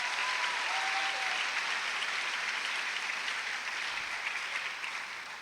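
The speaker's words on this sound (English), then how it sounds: "Can we give them a big round of applause?" An 8th grade graduation audience at Scholars' Academy applauds its teachers, a dense, sustained wash of clapping that stays steady for several seconds and tapers slightly toward the end, with no talk over it.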